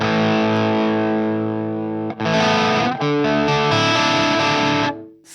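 Electric guitar played through a Peavey Triple XXX amp into a 1960AV cabinet, miked with an SM57, rings out with gain at 7 in thick, sustained distorted chords, loud and close, with brief breaks where the chords change.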